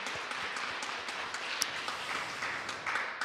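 A church congregation on Christmas Day applauds: a soft, even patter of many hands clapping at a distance, with no voices over it.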